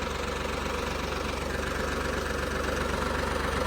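A Ford 3600 tractor engine drives a generator, giving a loud, steady, close diesel drone with a constant low rumble and vibration that never lets up. No one speaks.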